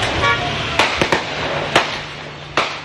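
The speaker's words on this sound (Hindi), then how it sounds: "मुलजिमान को फायरिंग करते और गाड़ियों के शीशे तोड़ते हुए देखा जा सकता है।" Gunfire aimed at a by-election campaign convoy in Lahore's Johar Town, where car windows were smashed, heard as a handful of sharp cracks spread over a loud, steady street din of engines and horns, with faint voices mixed in.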